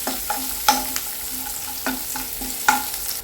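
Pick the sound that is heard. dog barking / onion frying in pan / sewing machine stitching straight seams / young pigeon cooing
onion frying in pan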